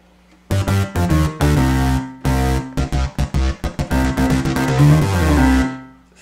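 Thor software synthesizer layered with a Steinway piano in MainStage, played from a MIDI keyboard: loud sustained chords and short stabbed notes in an uneven rhythm, close and clean, with no talking.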